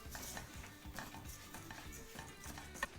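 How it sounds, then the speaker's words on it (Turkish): Bulgur wheat dry-roasted in a pot, stirred with a spoon in steady scraping passes, soft sizzle and grainy rustle close up with occasional light metallic clinks of utensil against the pot, no talking. "Ve şöyle bir tur bulguru da kavuruyorum."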